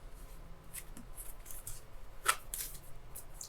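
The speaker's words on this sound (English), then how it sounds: "so I'm going to keep shuffling" Tarot cards are shuffled by hand in soft, quiet riffles and slides, with one sharper snap midway, close and intimate with no talking.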